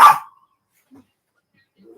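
A pet dog gives one sharp, loud bark close by at the start, followed by near silence with only faint small sounds afterward.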